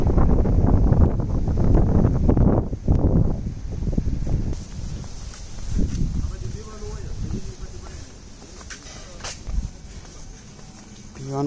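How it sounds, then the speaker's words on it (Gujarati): Strong wind blowing across Songadh hill fort near Surat, loud rough buffeting gusts battering close to the listener at first, then settling into a quieter steady rush with faint rustling and a few soft thuds. "ફૂલ પવન ચાલે છે."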